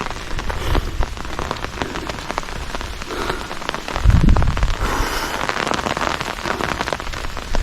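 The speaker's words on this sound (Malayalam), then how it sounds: "അവിടെയൊക്കെ മഴ കാണാം, പക്ഷെ ഇവിടെ ചെറുതായിട്ട് ഇപ്പോൾ പെയ്യുന്നുള്ളൂ." Light rain falls at the Kattadikadavu hilltop viewpoint, a steady dense patter of drops on nearby surfaces with one brief heavier thump partway through.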